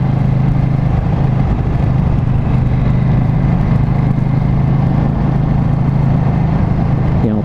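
A KTM Duke 790 motorcycle engine cruises steadily in fourth gear at about 60, giving a constant low droning hum with wind noise, with no changes in revs.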